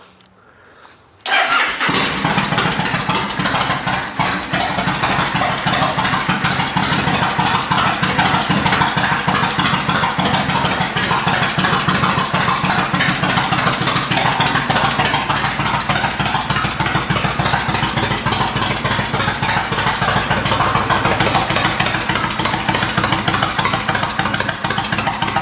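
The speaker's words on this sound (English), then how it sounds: "Let's get the bike turned on here." A motorcycle in a garage fires up after a brief quiet moment and settles straight into a loud, steady, close idle that runs unbroken to the end, with no talking.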